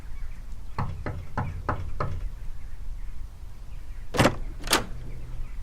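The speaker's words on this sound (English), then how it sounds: "I shall knock upon the door." A row of five sharp knocks on a door, evenly spaced and fairly loud, followed after a pause by two heavier, louder raps, over a steady background hiss.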